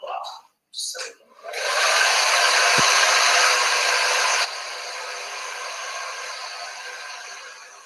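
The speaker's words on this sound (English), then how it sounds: "I'm actually kind of feeling this little dryer." A small hair dryer starts up after a few brief bumps and runs as a steady, loud, airy whir close by, dropping to a slightly softer setting about halfway through and continuing evenly.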